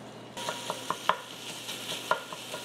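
Ground beef searing in a pan, starting with a soft sizzle after a moment of quiet, broken by scattered scrapes and clinks of stirring at irregular intervals, fairly faint and close.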